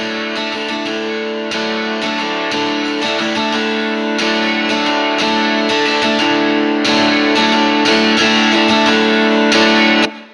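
An ambient pad layered through a contact guitar plugin, a loud, sustained distorted chordal texture with shifting tones and repeated swells that cuts off abruptly at the end.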